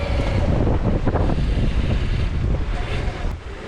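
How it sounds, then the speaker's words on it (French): Strong sea swell and gusting wind buffet a sailboat off Finistère near the Raz de Sein, a loud, continuous roar of wind on the microphone over rushing water that eases slightly toward the end. "on a quand même une sacrée houle"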